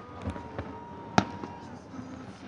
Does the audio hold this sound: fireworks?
yes